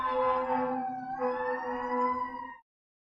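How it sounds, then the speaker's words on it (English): An emergency vehicle siren wails outside, loud and steady with a shifting pitch, then cuts off abruptly after a few seconds. "It wouldn't be a class without some sirens going through."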